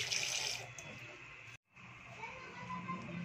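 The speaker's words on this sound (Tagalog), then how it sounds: "hugasan na natin ang ating fish, mga kamadyo" Fish is rinsed under running tap water in a sink, with a steady, soft splashing stream that briefly cuts out midway, then resumes.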